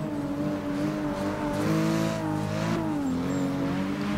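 Race cars in Forza Motorsport 6 run close together through a big puddle at Sebring International Raceway, engines droning loudly and steadily with shifting pitch under a wash of broadband spray noise.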